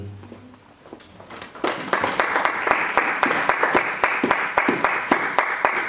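Church congregation applauding together during a service, a dense steady clapping that swells in after a quiet start and continues loud and close.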